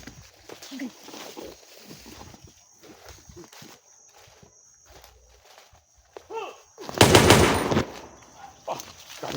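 A sharp burst of gunfire cracks out loud and close near the end, following scattered quieter pops and shuffling noises, with faint voices in the background.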